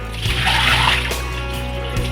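Water poured out of a vessel after washing fish, a continuous splashing and sloshing stream close by, loudest early on and then trickling down.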